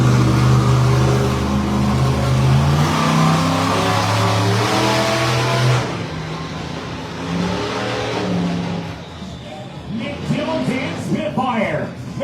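Spitfire, a monster truck, circling the track at a freestyle event: a loud, sustained engine roar with a steady droning pitch that cuts off midway, then rougher, uneven engine noise and crowd sound, with an announcer talking over it.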